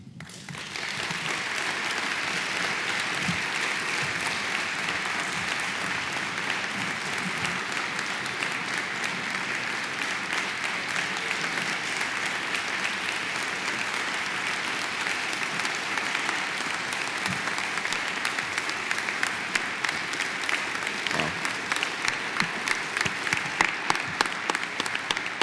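A crowd at a 2018 memorial event at JCU applauds steadily and continuously for about twenty-five seconds. The clapping is dense and sustained, with a few sharper individual claps standing out toward the end.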